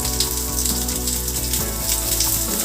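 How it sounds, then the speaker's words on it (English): Onion hitting hot oil flavored with star anise and cinnamon sticks, a loud, steady, close sizzle and crackle of frying that holds continuously with no pauses. "So now in this flavored oil, I'll add the onion."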